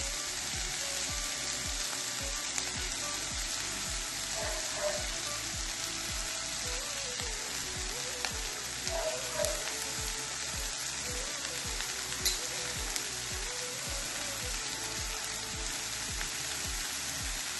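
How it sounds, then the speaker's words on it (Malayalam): Chopped spinach stir-fried in a pan with sautéed onions, a steady close sizzle and crackle running throughout with faint stirring scrapes, no voices. "ഈ അരിഞ്ഞു വെച്ചിരിക്കുന്ന ഈ സുന്ദരി ചീര നമുക്ക് അതിലോട്ട് ഇട്ട് കൊടുക്കാം"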